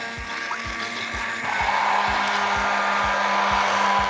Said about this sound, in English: Now, what I like to do is use a stick blender.